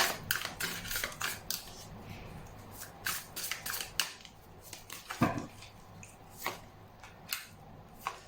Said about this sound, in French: Là, je sens que les cartes se brassent fluidement.